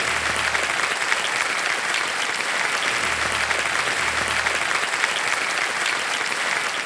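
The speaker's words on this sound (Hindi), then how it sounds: "एक बार फिर जोरदार तालियां बजाएं के लिए।" The studio audience of the quiz show Kaun Banega Crorepati season 15 breaks into loud, sustained applause that stays even and full throughout, with a low hum underneath.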